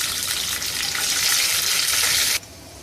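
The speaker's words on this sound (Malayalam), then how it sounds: "ഇതേ എണ്ണയിൽ അണ്ടിപ്പരിപ്പും മുന്തിരിയൊക്കെ ഒന്ന് വഴറ്റിയെടുക്കുക." Cashews and raisins sautéing in hot oil, a loud, close, continuous sizzle that swells in the middle and then cuts off sharply near the end, leaving a softer hiss.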